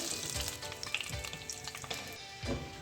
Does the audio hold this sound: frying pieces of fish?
yes